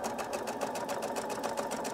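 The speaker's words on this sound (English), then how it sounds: "I'm going to sewing machine this because I want to be exact" Sewing machine stitching a jacket seam, a fast, even run of rhythmic needle clatter close up and steady throughout.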